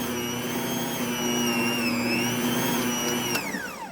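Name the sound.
mixing flour into pretzel dough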